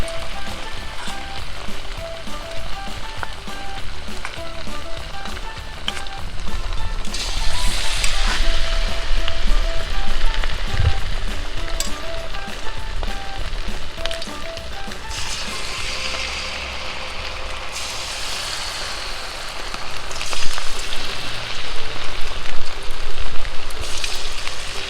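Loud, steady sizzling of chicken frying in hot oil for orange chicken, with bursts of crackling and occasional stirring, close up and without talk.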